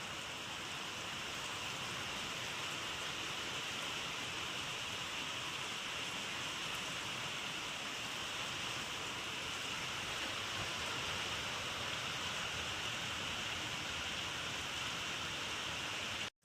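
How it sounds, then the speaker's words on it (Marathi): Steady rain pours down in an even, dense wash of noise that holds unbroken throughout, with no voices. "पालख्यान ते निघाला पाऊस आला."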